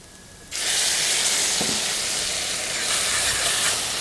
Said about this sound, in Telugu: ఓకే, సో ఇప్పుడు ఇందులో మనం టమాటో ప్యూరే వేసుకుందామండి.